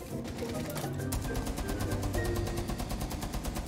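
Rapid automatic gunfire in the Rainbow Six Siege video game rattles on continuously at a fast, even rate, layered over dense in-game battle noise.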